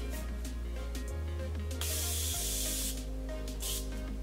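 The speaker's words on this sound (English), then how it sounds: "Now I'm taking my Morphe setting spray to just set everything" Morphe setting spray misted onto a face at close range: a couple of short, bright pressurized hissing bursts over a low steady hum, with no talking.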